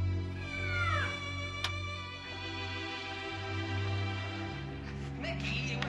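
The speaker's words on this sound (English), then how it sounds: "it was just a cat" A cat meows a couple of times at close range over a steady low hum, with a brief click in between.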